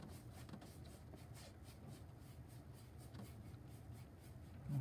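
A paint brush blends a painted vignette background in X-pattern strokes, giving a steady, soft scratchy brushing texture that runs continuously at close range with no talk.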